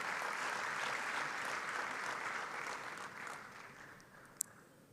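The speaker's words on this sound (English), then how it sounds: "Another big round of applause for the last and final panel for today" Conference audience applauding the final panel at a closing ceremony, a dense steady wash of clapping that slowly thins and fades over several seconds, ending with a single sharp knock.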